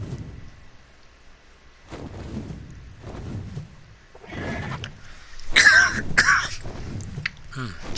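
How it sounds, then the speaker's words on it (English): Several short coughs and throat clearings from a man, rough and low at first, spaced out over a few seconds, followed by louder noisy bursts near the end. "Got a little bit of a cough, so I may cough occasionally"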